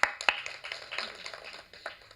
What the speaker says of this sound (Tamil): நானே கைத்தட்டிக்கிறேன்.